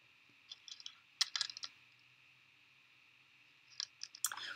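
Several small bursts of computer mouse clicking while placing an online order. The clicks come in quick clusters, quiet and close, over a steady background hum.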